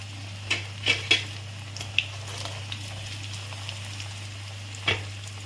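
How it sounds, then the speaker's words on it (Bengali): Soybean and cabbage vegetarian chops frying in oil, a faint steady sizzle under a low hum, with a few clinks of utensils against the pan. "দেখো এটা আমার ভালোভাবে লাগানো হয়ে গেছে, এবারে আমি এটা তেলে ছাড়ছি।"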